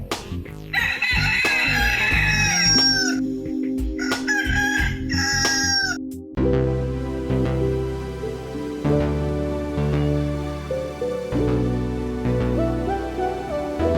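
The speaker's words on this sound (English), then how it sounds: "Let's cue the rooster and get this show started." A rooster crows loudly several times near the start, then gives way to a steady musical backing that continues to the end.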